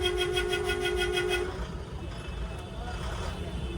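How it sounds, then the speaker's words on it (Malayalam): A vehicle horn blares in a long, pulsing honk for about a second and a half at a Kolkata traffic signal, then gives way to a steady hum of engines and road noise. "ഈ സിഗ്നലിൽ പോലും ഇവരെന്തിനാണ് ഇങ്ങനെ ഹോൺ അടിക്കുന്നതെന്നാണ്."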